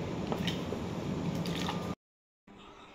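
Pieces of raw green mango drop into a bowl of lime water with wet squishing, dripping and gurgling, then a sudden cut to silence before a quieter watery hiss returns.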